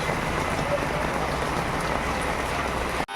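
Heavy rain falls steadily in Rangamatia, a dense, even hiss of drops hitting surfaces that continues unbroken and fairly loud until it cuts off abruptly at the end.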